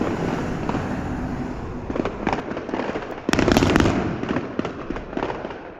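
Fireworks explode in a steady crackling barrage, with several louder sharp bangs partway through over a constant hissing roar of bursts, fairly close and with no speech.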